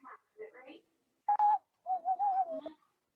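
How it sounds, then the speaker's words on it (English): An owl hooting outdoors at night, a few mid-pitched calls with steady tones spread over a few seconds, fairly close and clear against a quiet background. "That's an owl. That's a freaking owl."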